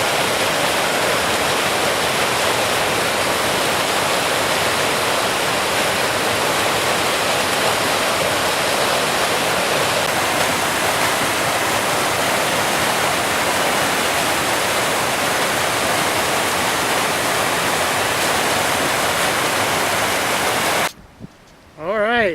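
A mountain stream in the Colorado Rockies rushes in a loud, constant broadband wash for about twenty seconds before cutting out abruptly near the end.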